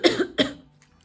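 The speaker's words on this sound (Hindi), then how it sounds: "सॉरी मेरे को थोड़ी खांसी हो रही है।" A person coughs twice in quick succession, loud and close, then a faint throat noise trails off into quiet.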